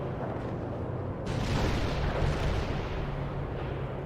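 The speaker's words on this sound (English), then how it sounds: "Artillery strike on our target now." Artillery strike explosions in the video game World in Conflict, heard as a dense rumbling barrage that swells into a heavier burst of blasts midway and then settles back to a continuous low roar.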